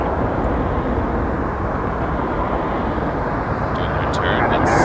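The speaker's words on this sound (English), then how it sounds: "Cessna's coming in." A Cessna comes in to land at Toronto Pearson airport, a steady, fairly loud broadband engine and air roar that holds throughout with a slight rise near the end.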